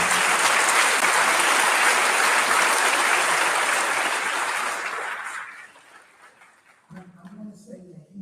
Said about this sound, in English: Can we please give another round of applause to